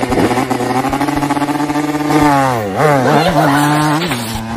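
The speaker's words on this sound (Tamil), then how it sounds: "இவர் ஏதோ ரேஸுக்கு போற மாதிரி பைக்கை திருக்கிட்டு நிக்கிறாரு" A motorcycle engine revs hard up close. Its loud buzzing pitch climbs and dips through several quick throttle blips before settling.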